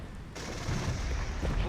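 Gunfire in the Iron Tide war game, a sudden burst of loud shots that rolls into continuous rumbling combat noise, with scattered reports close by.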